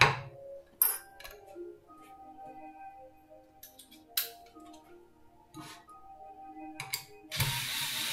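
A 4x40 screw being driven into a wooden Christmas crib piece by hand, irregular ratcheting clicks and ticking turns separated by short pauses, ending in a brief rough scrape, close and fairly quiet, with no talk.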